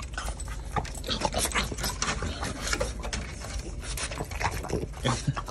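A French bulldog puppy pants and snuffles close by in quick, busy bursts, with rattly mechanical clicks mixed in and no talk.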